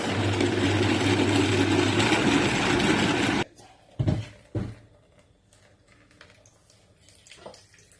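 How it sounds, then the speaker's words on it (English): A blender whirs loudly and steadily while blending a detox drink, its motor roar cutting off abruptly partway through, followed by a few quieter knocks and handling sounds. "Covering it up right now and giving it a very good blend."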